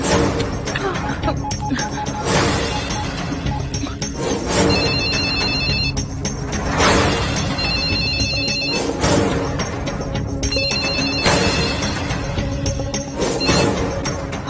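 A telephone ringtone rings loudly in repeated bursts with short pauses between them in an Indian horror film scene, close and clear over a busy background of music.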